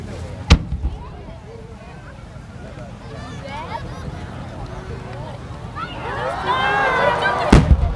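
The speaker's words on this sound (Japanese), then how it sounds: "長野県の紅谷青木煙火店による銀芯銀ヤシ入り青緑紅です" Silver-core palm shells by Beniya Aoki Enkaten of Nagano, fired at the Kamakura fireworks festival, burst as two sharp, loud booms near the start and end, with voices talking over a steady crowd murmur in between.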